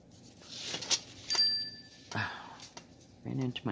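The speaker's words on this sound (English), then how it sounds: "Ran into my silly bell again." A small bell is knocked by accident during a home cross-stitch session. It gives one bright ding that rings briefly, surrounded by soft thumps and household noises.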